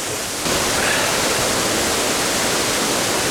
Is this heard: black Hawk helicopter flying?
no